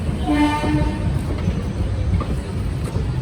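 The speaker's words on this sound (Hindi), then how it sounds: "गोमती एक्सप्रेस अराइविंग करती हुई गाजियाबाद जंक्शन पर" The Gomti Express arrives at Ghaziabad Junction, a loud nearby train rumble with a brief two-note horn blast early on over steady rolling noise.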